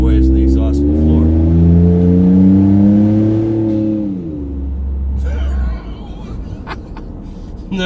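A Ford F-150 EcoBoost pickup's deep exhaust rumbles and climbs in pitch as the truck accelerates, then drops back to a low drone before a brief shift in road noise.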